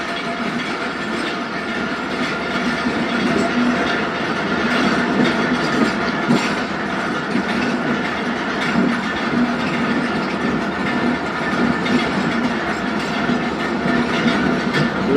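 Zakariya Express passenger train rolling along the rails, a steady loud rumble with continuous wheel clatter and a low engine hum heard from on board, no talking.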